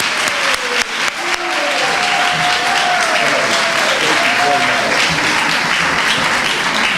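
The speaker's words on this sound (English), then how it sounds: "Let's give a warm round of applause for our two co-hosts, Stan and Dr. Paulette Brown-Hines." A dense, steady wash of audience applause for co-hosts Stan and Dr. Paulette Brown-Hines at a conversation series event, fairly loud and sustained from start to finish.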